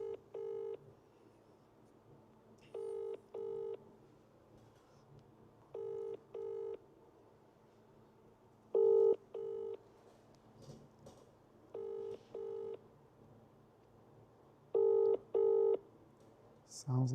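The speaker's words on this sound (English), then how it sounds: "Sounds like it's probably just going to ring through again." Repeated paired ring tones on an outgoing telephone call, with eight evenly spaced double bursts about three seconds apart, heard clearly over faint background hum.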